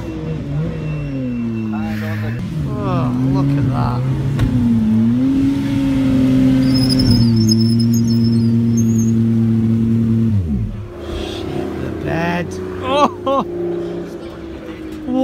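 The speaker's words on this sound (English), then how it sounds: "Now all the cars are about to line up over here." Race cars lining up at a track hold a steady, loud engine drone with rising and falling revs, close by, while people talk and exclaim over it.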